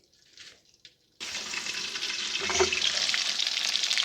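KFC-style buffalo wings fry in a covered pan over a low flame, with a steady close hiss and crackle that begins abruptly after a brief quiet clatter and then keeps sizzling evenly.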